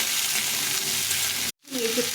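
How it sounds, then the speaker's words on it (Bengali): Chopped jackfruit fries in a pan with a cumin tempering, giving a steady hissing sizzle that cuts out briefly and then returns with a soft stirring scrape. "এঁচড়টা কেটে নিয়ে দিয়ে জিরে ফোড়ন দিলাম, একটু ভেজে নেব।"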